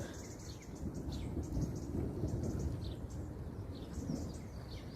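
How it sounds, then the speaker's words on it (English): Low rumbling thunder during a garden rain shower, a steady deep roll under the hiss of rain with birds chirping faintly above, moderately distant. "Here comes the thunder as well."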